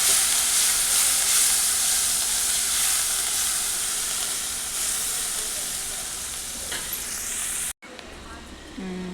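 Garlic and green chilli fry in a pan of hot oil, giving a loud, steady sizzle that carries on without a break before cutting abruptly to a quieter, softer hiss.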